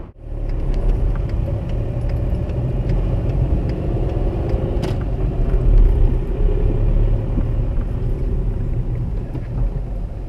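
A car races past with a loud, continuous engine rumble that stays close and heavy for the whole stretch and swells slightly midway; no voices are heard.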